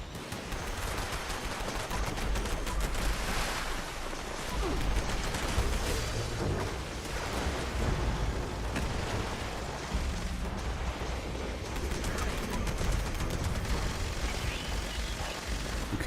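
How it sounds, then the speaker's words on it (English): An artillery barrage in the video game Fallout 76 rumbles through a dense, continuous wall of booms and crackling gunfire, loud and sustained with no pauses. "Artillery smoke. And I'll launch some artillery on these dudes."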